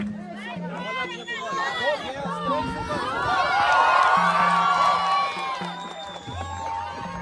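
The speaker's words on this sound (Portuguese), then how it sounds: "Foi vaiado pelos sem terra." A crowd of landless farm workers at a camp jeers and shouts at a visiting official. Many voices overlap in a loud, swelling mix of yells and whoops.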